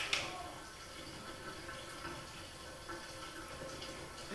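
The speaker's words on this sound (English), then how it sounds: "my tub is still draining out" Water draining from a bathtub, a faint, steady trickling and gurgling wash heard at low level with no voices over it.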